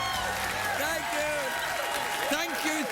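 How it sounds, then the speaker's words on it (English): Studio audience applause and cheering at a late-night talk show in Los Angeles, a steady wash of clapping throughout while the host speaks over it. "Stop clapping"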